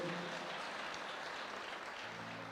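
Congregation at a religious sermon claps together, a continuous, fairly faint wash of applause held steady throughout, with a low hum and a few voices beneath it.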